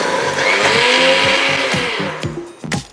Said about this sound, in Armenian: Դեռ հարում ենք միայն սերուցքային պանիրը եւ ֆետան